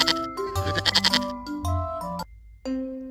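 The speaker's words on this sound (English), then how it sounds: "goat." A goat gives a few wavering bleats, near and clear, layered over cheerful children's music with steady melodic notes.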